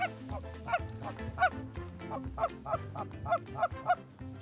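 Canada geese honk repeatedly in quick, uneven bursts during a goose hunt, fairly close and loud, with several birds calling over one another.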